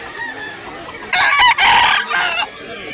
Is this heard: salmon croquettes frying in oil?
no